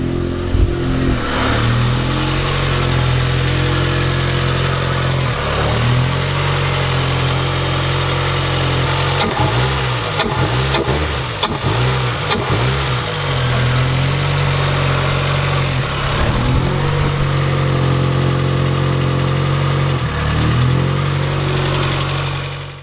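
A Mazda NB's engine, freshly swapped to a VVT unit, runs loud and close, idling with a steady low drone and several short revs and throttle blips partway through.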